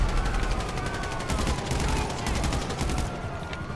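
Sustained police gunfire during an online heist in Grand Theft Auto V, a dense, continuous fusillade of rapid shots with overlapping bursts throughout, loud and steady, thinning slightly at the end.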